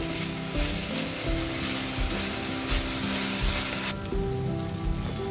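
Gurugaaku greens fry in a pan village style, a dense, loud, continuous sizzle heard up close with faint stirring movement and no voices.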